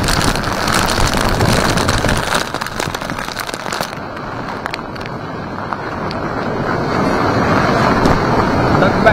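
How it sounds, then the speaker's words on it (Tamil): Loud, constant wind roar from a storm with heavy rain buffets the microphone, mixed with a rushing, churning wash like rough sea, unbroken throughout. "கனமழையுடன் சூறை காற்றும் வீசி வருகிறது."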